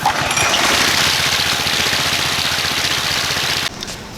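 Briggs and Stratton 650 engine with a melted wire fault, starting unprimed and running with a rapid loud chugging rumble, then dropping off sharply near the end.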